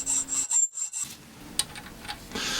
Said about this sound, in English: deburr the ends of that studding, then file them flat